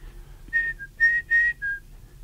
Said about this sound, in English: Started to whistle like everybody else does.